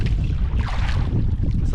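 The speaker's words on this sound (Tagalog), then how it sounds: "Medyo malakas-lakas na yung hangin." Strong wind buffets the microphone outdoors beside the water near a boat, a loud continuous rumble with gusty swells and faint higher hiss, no voices.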